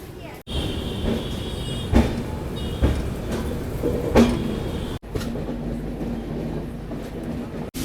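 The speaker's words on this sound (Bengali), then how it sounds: "ফাইনালি আমাদের ট্রেন ছেড়ে দিল" The 12517 Garib Rath Express pulls out of the station, a continuous low rumble of rolling rail cars with periodic clanks and jolts, heard from inside the train.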